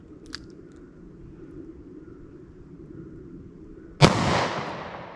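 One sharp, loud gunshot from a .38 Special +P+ snub nose revolver fired single action, cracking suddenly out of quiet outdoor ambience and decaying quickly.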